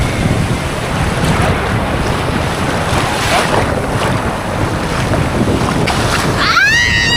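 Strong seaside wind at the Baltic coast in Grzybowo buffets the microphone in loud, continuous rumbling gusts over surf, with faint voices and a brief whistling tone near the end.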